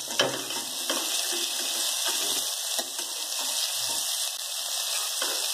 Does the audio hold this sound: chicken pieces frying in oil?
yes